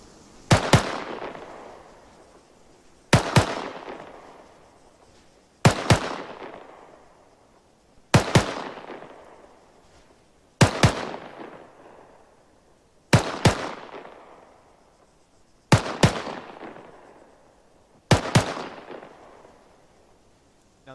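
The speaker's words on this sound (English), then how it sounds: "Now that was rapid firing" Rifle shots in ARMA III ring out one at a time at a steady pace, eight sharp, loud cracks roughly every two and a half seconds, each with a quick double report and a short decaying tail, with no talk.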